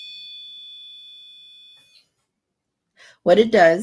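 A REM pod electromagnetic field alarm gadget gives a steady high electronic beep lasting about two seconds, then stops. A voice follows after a brief silence.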